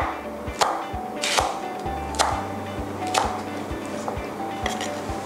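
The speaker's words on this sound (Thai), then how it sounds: "จากนั้นเราก็จะไปซอยพริกชี้ฟ้านะคะอันนี้เราจะหั่นเฉียงนะคะ" A knife slices red chili peppers diagonally on a cutting board, sharp evenly spaced chops at a steady moderate rhythm, close by with a low hum beneath.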